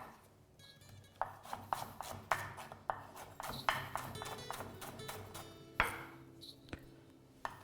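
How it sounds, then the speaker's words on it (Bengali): A knife thinly slicing onions on a cutting board for a soya malai gravy: quiet, irregular taps and thuds of the blade striking the board, with a few louder knocks. "আমি এখানে গ্রেভিটা বানানোর জন্য 3টে পেঁয়াজকে এইভাবে পাতলা পাতলা করে কেটে নিলাম।"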